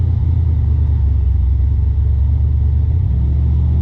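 A turbocharged SN95 Ford Mustang drives along with a steady, loud low engine rumble and drone that holds throughout, with a slight shift in tone near the end and no talking.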